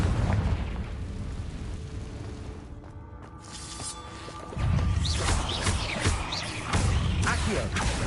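A Confringo fire spell goes off in the Hogwarts Legacy video game, giving rumbling blasts with crackling bursts and debris, layered over game effects, with a heavier impact midway and another toward the end.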